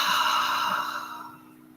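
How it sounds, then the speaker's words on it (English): A single long breath is let out through the mouth during a calm guided breathing exercise, a soft, airy whoosh heard close up that fades away gradually over about two seconds. "And exhale through the mouth."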